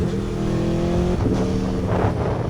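A 2024 Aprilia Tuono 1100 Factory motorcycle engine runs loud and close, holding a steady throbbing drone with slight rises in revs throughout.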